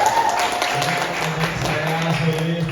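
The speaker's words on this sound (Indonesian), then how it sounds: "kita tepuk tangan dong" A crowd at a managed event applauds briefly, with scattered clapping mixed with voices and a humming background.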